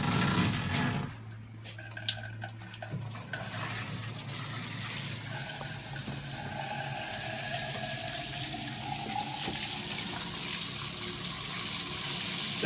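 Water runs steadily down a wet room shower drain with a faint hair clog, a continuous close gushing hiss that starts with a burst and settles into an even flow.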